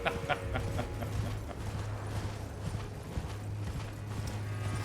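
A summoned horse in the Elden Ring video game, with rhythmic clip-clop hoof steps and mechanical clinks over a steady low game drone, fairly near and moderately loud.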